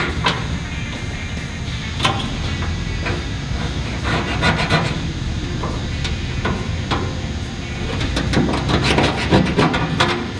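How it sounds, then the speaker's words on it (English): Scratching, rubbing and scraping sound close and loud as a line is scribed on a 1967-1969 Camaro subframe, with sharp metallic ticks scattered throughout over a constant shop background noise. "we'll scribe a line"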